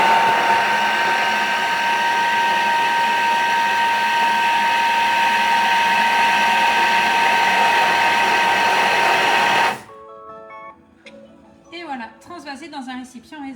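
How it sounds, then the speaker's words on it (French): A Thermomix blends cold butter into crumble dough for 10 seconds at speed 6, a steady loud whirring motor drone that stops abruptly, followed by quieter kitchen sounds and someone talking. "Et là, on va juste mixer 10 secondes, vitesse 6."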